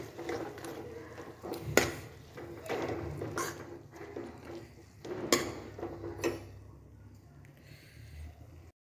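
A spoon stirs carrot and rice kheer in a cooking pot, with soft repeated scraping and light knocks against the metal at an uneven rhythm, fairly quiet and close.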